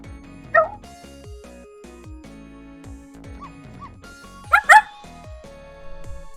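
In the video game Ghost Trick, a cartoon dog bark effect sounds twice, once early and once as a quick double yip later, over soft game music.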